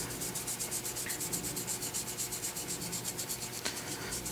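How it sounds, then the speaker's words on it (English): A rag wipes excess paint off a painted wooden Santa carving, making soft, quick, evenly spaced rubbing strokes close up and fairly quiet, with no speech. "I'm going to take a rag and wipe off some of the excess and get back down to the green color."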